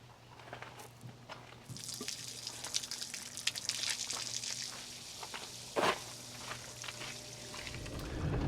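Water gushes steadily into a vehicle's water tank at a fill station, a continuous hissing pour with occasional splashes and drips, close and moderately loud.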